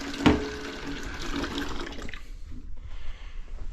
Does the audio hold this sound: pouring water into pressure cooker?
yes